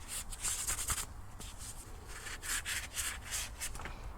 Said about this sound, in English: try to be fairly thorough with any sanding that you do